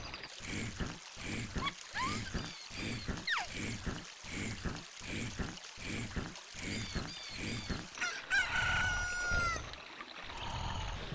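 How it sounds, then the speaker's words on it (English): A rooster crows in Zelda: Ocarina of Time as a hatched chicken announces itself, rising over a busy rhythmic game soundtrack, followed by chirpy bright jingle notes near the end. "Look, a chicken hatched from the egg you incubating."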